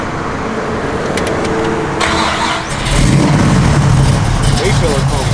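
A 1967 Chevrolet Camaro convertible with a nasty little cam starts up and idles, its engine settling into a steady, loud rumble after an initial crank, with vehicle noise throughout and no speech over it.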